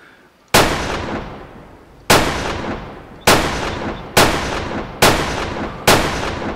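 Six sharp, loud .22 rifle gunshots from the hunting video game Way of the Hunter, fired at uneven intervals of about a second, each with a booming cannon-like tail and no speech.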